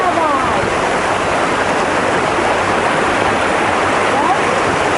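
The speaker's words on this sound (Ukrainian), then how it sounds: "Водопад шипіт. Один такий із найкрасивіших водопадів Закарпаття." Shypit waterfall in Zakarpattia, at the foot of Hemba mountain on the Borzhava ridge, sends out a loud, constant roar of rushing water that fills the whole stretch without a break.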